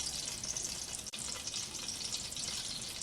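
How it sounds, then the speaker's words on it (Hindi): Fish frying in hot oil in a fryer, a steady dense sizzle and crackle throughout with one brief dip, no voices. "फिश फ्राई हो रही है।"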